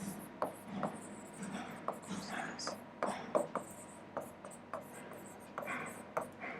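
Handwriting during an economics lesson: soft, scratchy pen or chalk strokes and taps come in uneven bursts, fairly faint, with a quiet voice in the background.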